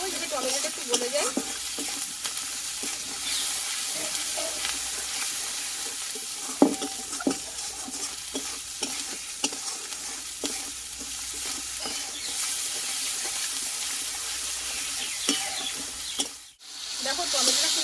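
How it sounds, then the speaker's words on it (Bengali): Tomatoes sauté with turmeric and salt in oil for a vegetarian pointed gourd dish, a steady close sizzle broken by repeated scraping taps of a spoon stirring the pan. "হলুদ লবণটা দিয়ে একটু ভালোভাবে একটু কষিয়ে নেব, যাতে টমেটোটা একটু গলে যায়।"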